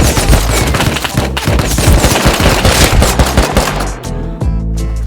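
Rapid automatic gunfire in the video game Rust crackles in a dense, loud burst of continuous shots, thinning into a few scattered reports at the end.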